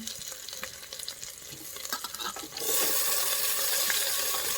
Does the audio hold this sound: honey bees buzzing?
no